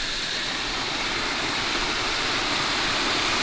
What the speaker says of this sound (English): ice-capped waterfalls.